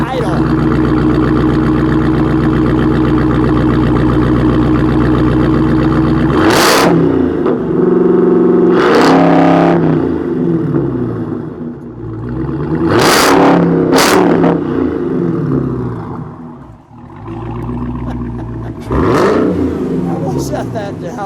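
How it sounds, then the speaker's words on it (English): A 2019 Dodge Challenger Redeye Hellcat with a Hurst setup idles with a deep, steady rumble, then barks through several sharp, loud revs spaced a few seconds apart, with no talking over it. "We're going to let it idle and then we'll give it a little rev."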